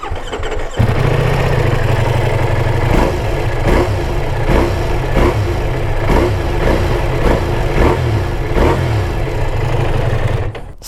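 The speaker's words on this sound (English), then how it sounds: "So sweet sounding motorcycle." Loud, close idle of a Ducati Multistrada V4 S motorcycle engine, a steady deep rumble with a throaty exhaust note and regular pulsing beats throughout.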